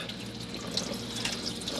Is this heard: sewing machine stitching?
no